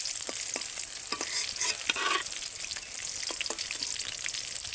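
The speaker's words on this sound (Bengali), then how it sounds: "যেহেতু অনেকখানি তেল দিয়ে পটলগুলো ভাজা হচ্ছিল" Pointed gourd (potol) fries in plenty of oil with a soft, steady sizzle, broken by several light stirring or lifting scrapes as the pieces are moved.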